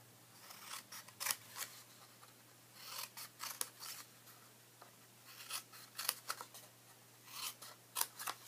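Scissors snip through paper strips for an octagon box craft, a close, quiet series of irregular crisp cuts and rustles with short gaps between them.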